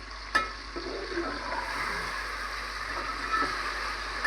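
A spoon stirs chicken biryani in a cooking pot, a soft steady bubbling sizzle with a few light scrapes and clinks of the utensil against the pot, close by and without talk.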